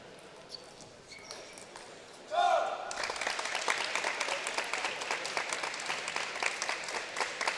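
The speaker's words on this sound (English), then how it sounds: "you hear that loud applause" Loud applause from Texas supporters at a college table tennis national team quarterfinal, bursting in suddenly after a quiet rally with a few ball taps and sustaining as dense clapping to the end.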